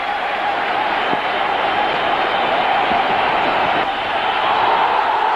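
Test match cricket crowd in Kolkata applauding, a broad steady wash of clapping and crowd noise, moderately loud and continuous, with a few sharper claps standing out.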